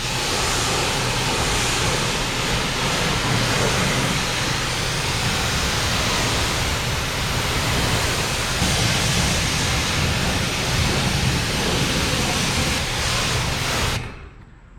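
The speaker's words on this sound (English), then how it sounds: "But for now, let's hose this off." A garden hose sprays water steadily onto a C8 Corvette, a dense, even hiss that holds loud and unbroken before cutting off abruptly at the end.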